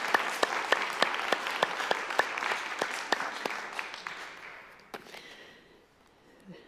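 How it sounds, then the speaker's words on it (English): A Sunday worship congregation claps in a steady rhythmic beat, crisp regular claps over a bed of scattered clapping, then tapering off into quieter room sound near the end. "Well, let's clap, sing."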